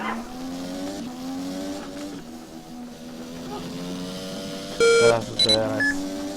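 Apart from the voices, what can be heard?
beeping sounds while racing in a racing video game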